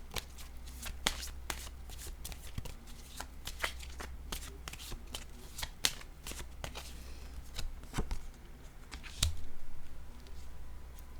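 Oracle cards are shuffled and drawn with a long series of crisp riffles, flicks and snaps. The sharp bursts come close together and at an uneven pace, with a low steady hum beneath.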